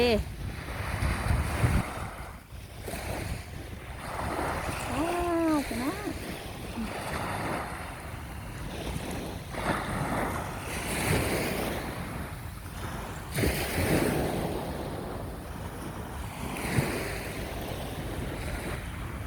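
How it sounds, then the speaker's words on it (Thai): Waves wash steadily onto the shore at Pattaya beach amid gusty wind noise on the microphone, with a voice speaking at times over the surf. "ได้ยินเสียง คลื่นทะเล"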